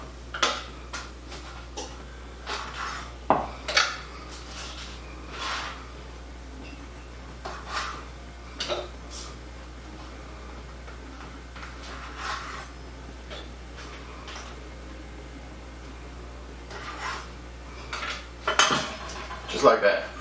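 Peppers cut on a cutting board with a knife, the seedy tops chopped off: scattered sharp taps and clacks of the blade on the board, clustered at the start and end with quieter gaps between.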